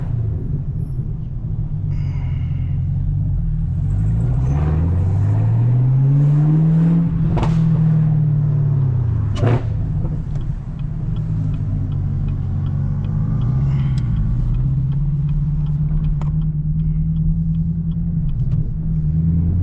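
A Camaro ZL1 with a manual gearbox rolls over a large speed bump on a city street, its deep engine rumble rising and falling in pitch, with sharp thumps as the suspension hits the bump.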